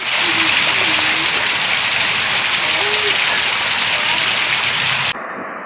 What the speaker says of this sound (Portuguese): Muita chuva em Feira de Santana.